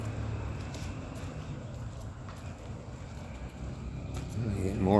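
Street traffic on a Mazatlán city street, a steady wash of passing cars and engine rumble heard from the sidewalk, swelling louder toward the end as a vehicle draws near.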